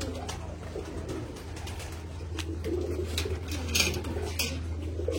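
Pigeons in a home loft holding racing birds at rest, with low steady cooing running under the whole stretch, along with faint chirps, scuffles and a few light clinks close by.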